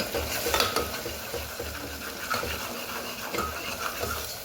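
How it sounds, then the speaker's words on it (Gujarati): A spoon scrapes and stirs spices with Kashmiri chilli and salt in a hot pan as they sizzle steadily, with a few sharper clinks along the way. "સરસ મિક્સ કરી લઈએ."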